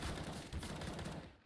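Rapid overlapping gunfire from a Counter-Strike match, a quick burst of sharp cracks in a dense fusillade, fairly faint and fading at the end, with no speech.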